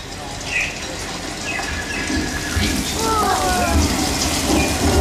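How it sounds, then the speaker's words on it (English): Artificial film rain from a studio sprinkler system at Universal Studios, water pumped up through pipes, pouring as a dense, steady rush of falling drops and splashes, loud and continuous. "It's basically a sprinkler system that we pump water up through pipes"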